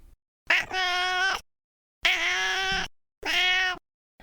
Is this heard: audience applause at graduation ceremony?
no